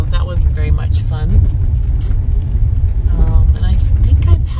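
A lifted Honda Element drives along after a heavy thunderstorm, its steady engine and road rumble low and constant throughout, with a person talking over it.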